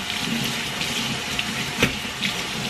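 Steady tap water running over tomatoes at a sink, a continuous close rushing stream with one brief splash midway, with no voices.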